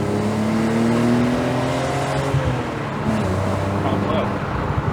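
A BMW 1 Series drives past on a road, its engine drone rising and falling under steady road and wind noise heard from inside another car.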